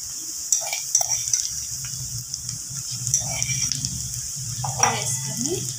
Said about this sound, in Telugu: వెల్లుల్లి వేసుకొని కొంచెం ఫ్రై చేస్తున్నాము